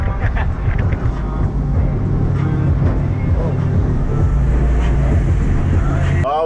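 A boat runs hard across open water at about 29 knots between islands, a loud continuous roar of engine and hull slapping with heavy wind buffeting the microphone throughout and no voices heard.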